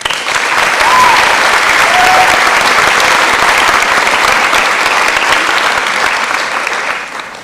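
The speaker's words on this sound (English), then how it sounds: "So please give her a round of applause." A large audience at a May 2025 honors convocation breaks into a sustained round of applause, loud and dense from start to finish before tapering off at the very end.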